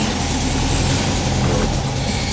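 A car with a troublesome transmission pulls away in first gear, its engine a loud, steady, rough drone heard close from inside the cabin.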